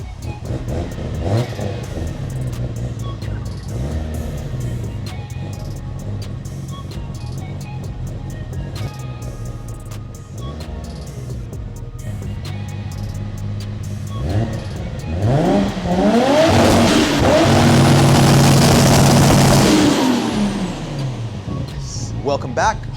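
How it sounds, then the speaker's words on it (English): A Nissan RB26 engine cold-starts and is revved, its mid-pitched idle rising into louder throttle blips and a surging rev toward the end, heard up close with some voice-like sounds mixed in. "that glorious symphony of the RB26 starting up and giving it a bit of throttle"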